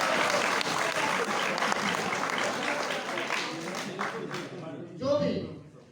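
A crowd applauds a performance at a farewell ceremony for newly appointed teachers, with steady dense clapping that tapers off near the end as a voice begins to speak.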